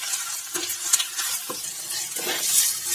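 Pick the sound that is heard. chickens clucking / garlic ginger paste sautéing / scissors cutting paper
garlic ginger paste sautéing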